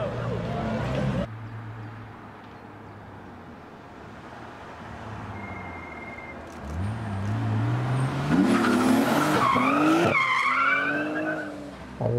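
Street drifting car with loud tire squeal sweeping upward as it slides through a corner, engine roaring and revving over road noise; a voice talks briefly at the start.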